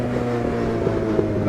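Racing car engine in Automobilista 2 at the Nurburgring Nordschleife, held at high revs in seventh gear, a steady loud tonal drone with layered harmonics and no talk.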